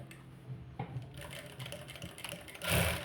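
A sewing machine stitches the edge of a blouse sleeve with a fairly faint, steady mechanical whir that swells louder near the end, and no voices are heard.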